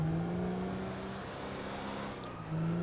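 A car in the Grand Theft Auto V video game drives with a steady, close engine drone whose pitch slides down and then climbs again as it revs, with no talk over it.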